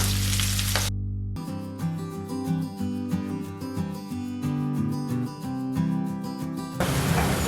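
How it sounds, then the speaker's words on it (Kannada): One large chopped onion fries in a pan as the base for a capsicum gravy, a steady sizzle with a brief dip near the start, heard beneath background music. "ಇದೆಲ್ಲ ಈಗ ಸ್ವಲ್ಪ ಫ್ರೈ ಆಗಲಿ, ಅಂದರೆ ಈರುಳ್ಳಿ ಎಲ್ಲ ಸಾಫ್ಟ್ ಆಗಬೇಕು."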